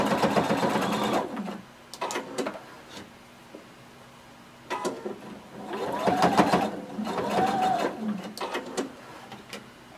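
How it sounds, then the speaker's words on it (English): A sewing machine stitches across the bottom of seam allowances on a garment made from Simplicity pattern 1115. It runs in several bursts of rapid mechanical whirring, close and clear, with short quiet pauses between runs. "we're going to stitch across the bottom of our seam allowances where we created"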